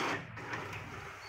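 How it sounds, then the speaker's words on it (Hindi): An Epson L-series inkjet printer feeding and printing a sheet, a close mechanical whir with a rolling, grinding texture that starts strong and settles into a steady hum, with no talking. "देख रहे हैं पेपर का हमने प्रिंट दिया है"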